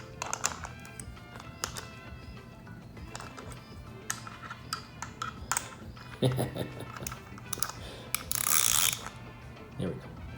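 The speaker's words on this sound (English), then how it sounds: "Let the wrench do its thing." A ratchet wrench tightens hardware on a homemade dipole antenna, giving bursts of quick ratcheting clicks spread through the clip, close and fairly clear, with some handling noise and a person speaking briefly.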